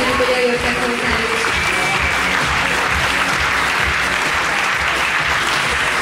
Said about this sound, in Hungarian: Nagy tapsot kérünk a hangadóknak még egyszer.